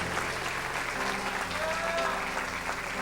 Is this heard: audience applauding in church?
yes